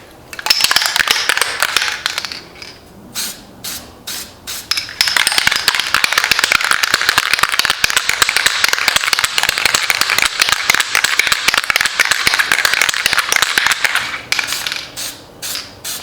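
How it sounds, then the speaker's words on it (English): An aerosol can of gasket sealer is shaken hard and continuously, the mixing ball rattling in a fast steady rhythm for several seconds, pausing briefly before resuming. "Shake it till it gets gold"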